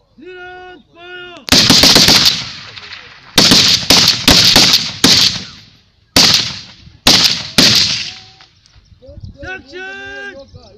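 Soldiers on a training range fire rifles in a series of sharp, loud, close gunshot bursts, some in quick succession, while commanders shout orders before and after the volleys.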